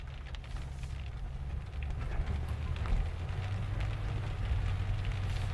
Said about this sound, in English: Yep, the rain's picking up a little bit.